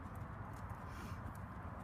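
Horse hooves trot in a steady rhythmic clip-clop during a riding lesson, close and fairly quiet with no talking over them.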